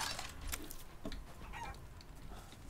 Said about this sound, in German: Du meinst die Hühner, ne?